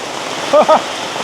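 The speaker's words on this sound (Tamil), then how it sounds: "மழையை பாருங்கள்" Sudden heavy rain pours down in a rural village, a steady hiss throughout with a couple of brief voice-like sounds briefly standing out near the middle.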